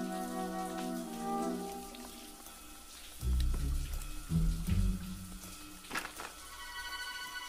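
Shower water running steadily in an animated comedy scene, a soft continuous hiss with a few heavier splashes and bumps partway through, fairly quiet.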